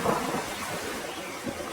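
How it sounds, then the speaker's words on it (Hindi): Heavy rain with thunder in a cartoon forest flood scene, a dense continuous wash of downpour with low rumbling underneath, steady and fairly loud with no voices. "पता नहीं ये बारिश कब रुकेगी।"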